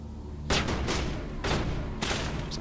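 Gunfire in the video game Mass Effect: sharp bursts of shots start abruptly and recur in several loud volleys with brief gaps, over a steady hum of game background.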